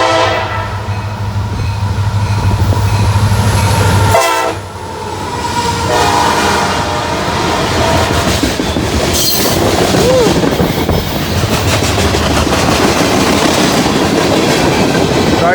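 A CSX freight train passes close by, loud and steady, with a strong horn blast near the start, then continuous wheel rumble and rail clatter through to the end.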